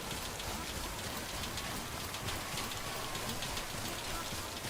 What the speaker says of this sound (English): this rain is going to destroy us really